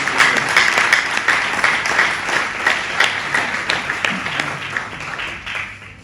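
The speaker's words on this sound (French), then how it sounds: "Je vous nomme Monsieur Cheikh Ousmane Seck, que je vous demande d'applaudir." An audience applauds at a school academic-year opening ceremony, a steady wash of many hands clapping, loud and sustained, tapering slightly toward the end.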